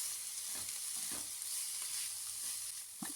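Tomato frying in a pan for an ash gourd curry gives a steady soft sizzle, with a few faint stirring scrapes near the start and end and no talking.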